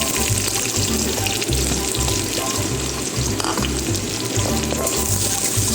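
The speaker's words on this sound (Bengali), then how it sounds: "তেজপাতার উপর আমার কেটে রাখা কুচনো পেঁয়াজ ঢেলে দিচ্ছি।" Chopped onions fry loudly in hot oil over bay leaves for a Bengali baby potato curry. A dense, continuous crackling sizzle stays close and strong, with a watery bubbling texture. No one speaks.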